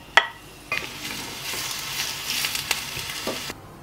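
Vegetables sautéing in sunflower oil in a hot pan, a steady soft sizzle with a few brief clinks of stirring near the start and end.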